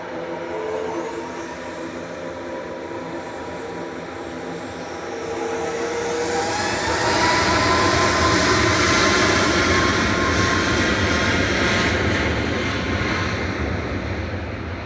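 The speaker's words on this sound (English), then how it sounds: "Sun Express touching down in the background, coming in from Dalaman" A SunExpress Boeing 737-800 touches down at Manchester Airport after a flight from Dalaman, its broad engine roar holding steady and then swelling louder around the middle before easing slightly, carried alone without voices.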